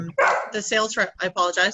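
A dog barking, several quick close barks in a choppy burst while a person talks at the same time.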